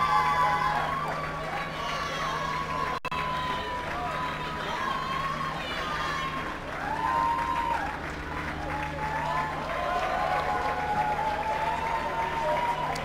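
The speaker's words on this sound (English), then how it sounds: "the Lions fans who are applauding them" Lions fans applaud their players at a national championship final American football game, a distant, steady patter of clapping across the stadium with a low hum underneath and a commentator talking over it.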